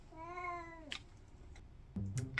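A house cat gives one clear, drawn-out meow at close range indoors, followed by soft rustling and a brief second cry at the end; no talking.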